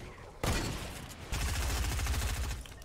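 Rapid SMG gunfire in the Fortnite video game, two close, loud sustained bursts with a quick rhythmic rattle, the second burst longer and steadier.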